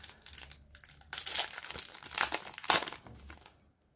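A Dragon Ball Z trading card pack's foil wrapper crinkles and tears open up close, in irregular bursts of crackling that stop near the end.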